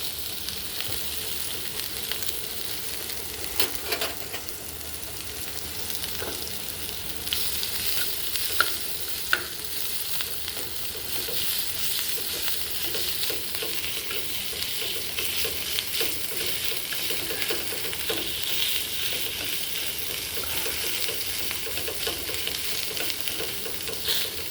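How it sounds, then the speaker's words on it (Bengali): Grated ginger frying and sizzling in a pan with stirring during preparation of a mixed five-vegetable curry, already holding fried potato, green banana and papaya. A steady close sizzle runs throughout with scraping stir strokes and no talk. "আদাটা ভাজা হয়ে গেছে।"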